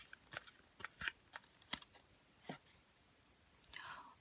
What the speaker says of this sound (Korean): 또 한번 조언의 카드를 뽑아볼게요.